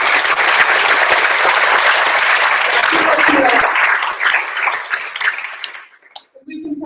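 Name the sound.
audience round of applause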